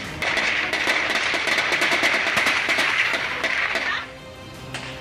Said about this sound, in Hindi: गोलियों की तड़तड़ाहट से सब जाहिर हो रहा है।